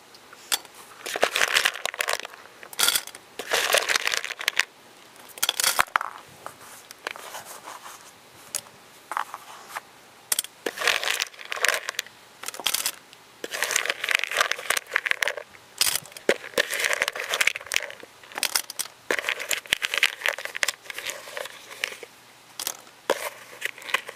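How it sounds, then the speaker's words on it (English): Wax crayons dropped and shuffled into a metal tin can, giving a dense run of close, clattering crunches and rattles that continue throughout with no talk. "I'm going to take my crayons and I'm going to put them into this can"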